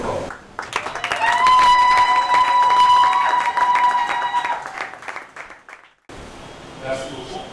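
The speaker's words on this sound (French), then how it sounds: "Ils sont tenus de se mettre debout sous vos applaudissements très forts." Loud applause and cheering from a crowd at a ceremony as people stand, mixed with ringing, sustained tones and voices over it, dropping briefly to near silence before softer clapping and talk resume.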